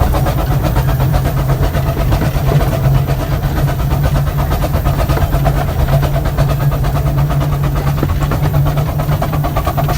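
Steam locomotive Northern Chief works hard to accelerate its train, heard loud and close from the footplate as a fast, even exhaust beat over a constant low mechanical drone.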